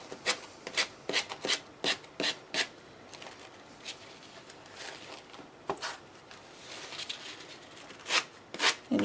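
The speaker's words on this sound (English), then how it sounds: "just sand around and it will make a clean edge on your" Sandpaper rubbing around the edge of a napkin glued onto a small wooden Dollar Tree HOME craft sign, a close series of quick rasping strokes in bursts with short pauses between, no talking.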